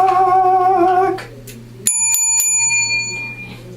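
A bell sound effect played on a talk show rings out with a bright, metallic ding that lingers and decays, following a brief stretch of voice.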